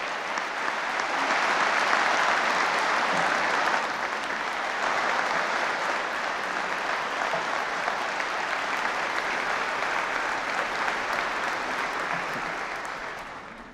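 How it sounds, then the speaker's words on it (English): Sustained applause from the audience at a governor's State of the Commonwealth address, a broad, even roar of clapping rising early, holding for many seconds, then tapering off at the end. "Let's give KSP, the Child Crime Task Force, and Brianna a big round of applause."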